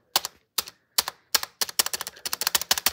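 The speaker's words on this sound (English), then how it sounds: "my spacebar on my keyboard sounds so bad." A bad-sounding spacebar on a computer keyboard is pressed repeatedly, close and loud, with sharp hollow clacks starting as spaced single presses and then speeding into a rapid rattling run.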